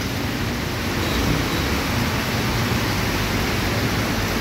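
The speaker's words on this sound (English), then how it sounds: "But that is pouring. Really, really pouring." Heavy downpour pouring steadily in Marikina City, a dense, loud, unbroken hiss of rain that fills the whole clip without pause or voices.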